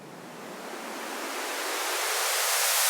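A broadband white noise sweep rising steadily, brightening and growing louder over about three seconds, with no other sounds.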